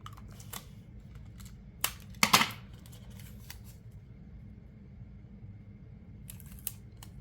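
Scissors snip through paper envelopes in a few sharp, close cuts, separated by quiet pauses and soft paper handling.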